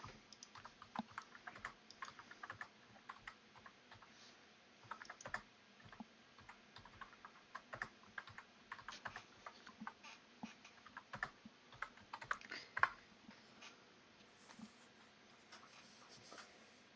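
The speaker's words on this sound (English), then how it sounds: "Clyde is typing in an in-game chat" A player types steadily on a computer keyboard into an in-game chat: quiet, continuous clicky keystrokes in uneven bursts, heard alone at low level for the whole stretch.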